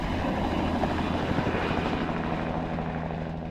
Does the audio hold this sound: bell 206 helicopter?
yes